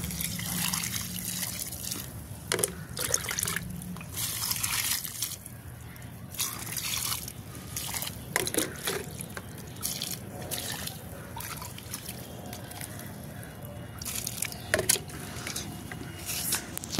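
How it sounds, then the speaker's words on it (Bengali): Water poured and trickling onto potting soil in a plant pot, wetting it to mud, with steady dribbling and irregular splashy drips close by throughout, no talk. "জল দিয়ে একদম কাদা কাদা করে দেবো।"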